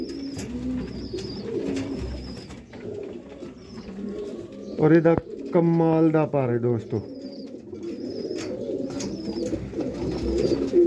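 Black-faced Sialkoti pigeons coo in soft, rolling bursts, with a rapid burbling coo standing out midway, close by under someone talking over low background noise.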